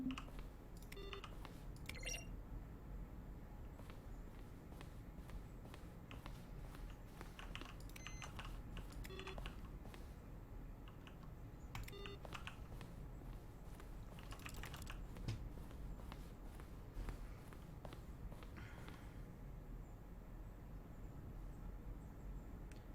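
Button presses during The Stanley Parable credits, each a keyboard keystroke blended with a synthesized tone, sounding as irregular clicks and short beeps over a quiet background throughout.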